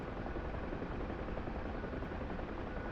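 Mi-8 helicopter in flight in a Syria-set combat video game, a steady dense rotor and turbine roar that holds loud and unchanging throughout, with no voices.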